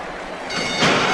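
A crowd roaring at the start of a horse race, a broad rushing roar that swells quickly and stays loud and close.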